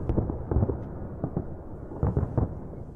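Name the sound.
fireworks rehearsal in Sochi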